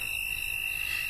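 Cricket chirping effect from a Wheel of Fortune PC game, a steady, high, continuous electronic trill that holds evenly at moderate loudness with no talking.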